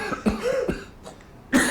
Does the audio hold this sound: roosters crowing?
no